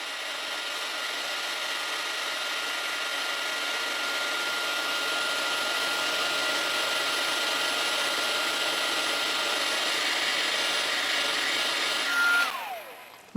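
A heat tool blows hot air steadily onto ink-blended cardstock, a loud continuous whooshing hum that runs unbroken for over ten seconds before winding down at the end.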